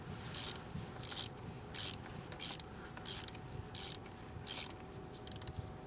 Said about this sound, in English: I'm not gonna go crazy when I torque it.